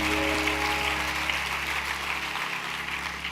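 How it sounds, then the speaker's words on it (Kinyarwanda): A large crowd at a Kinyarwanda Christian gospel gathering applauds loudly and steadily, dense sustained clapping filling the whole stretch with a low hum underneath. "tumukomere amashyi cyane."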